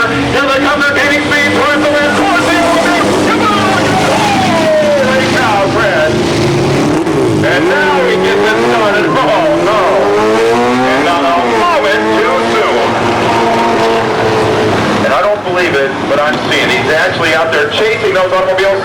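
Race cars on a speedway track gain speed toward a ramp, engines rising and falling in pitch through repeated loud revving sweeps, with an announcer talking excitedly over the whole run.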